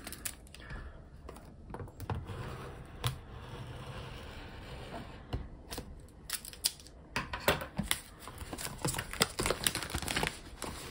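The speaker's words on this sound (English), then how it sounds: "let's get this plastic off and have a little look at what's inside" Plastic wrap being pulled off a headphone box, the Earfun Wave Pro, with close crinkling, tearing and scratchy handling noises that grow busier and louder toward the end, heard without talk.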